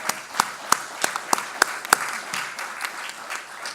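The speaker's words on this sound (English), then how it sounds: "Let's give them another round of applause." An audience applauds faculty at a research day event, a moderate round of clapping with distinct sharp claps standing out near the start, thinning toward the end.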